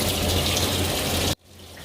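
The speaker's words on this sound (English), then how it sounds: "So I want to let it run just a minute longer, so that way when the water spurts out through the holes" Water gushes steadily from a tap into a jetted bathtub filled past its jets, a loud continuous rush that cuts off abruptly to a softer, lingering flow.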